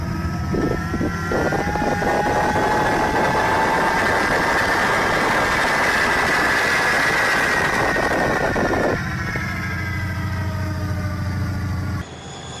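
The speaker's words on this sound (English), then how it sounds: "It looks like a train with a jet engine." A smoky train fitted with a jet engine gives off a loud, steady roaring drone with a whining tone that rises and falls, continuing for several seconds before dropping to a lower rumble.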